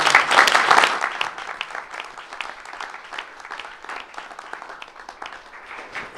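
Enthusiastic applause from an audience at a school board meeting, honoring students for their hard work; dense clapping starts loud and busy, then thins slightly but keeps going steadily for several seconds.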